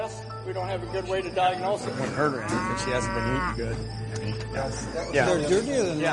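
Cows in a barn moo loudly, overlapping with a person speaking, while a steady low hum runs underneath.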